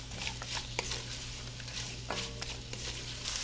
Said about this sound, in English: we're going to saute these down until they're nice and soft